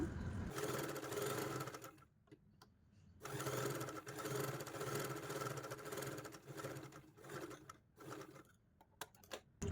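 A sewing machine stitches a V-neck neckline, running in loud, steady bursts of rapid mechanical clatter that stop briefly and then start again.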